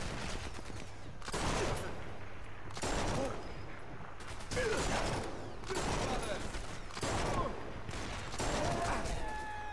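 Gunfire in Sniper Elite 4, a series of about six separate loud bursts of shooting spaced a second or two apart over a steady background, with voices talking between the shots.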